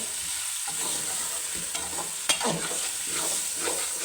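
Thin, long-cut potato slices fry in hot oil in a pan, a steady close sizzle with crackles and a sharp clink of a spoon against the pan partway through.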